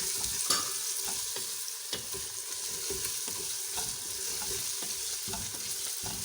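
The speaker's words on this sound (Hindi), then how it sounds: "साथ ही मैं गोश्त डाल रही हूँ इसमें।" Beef or mutton pieces hit hot oil in a pan for aloo gosht, giving a steady close sizzle and frying hiss with occasional stirring clatter throughout, no voices.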